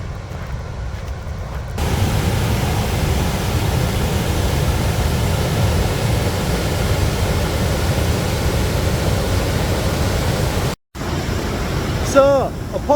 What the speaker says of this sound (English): This is Faxi Waterfall.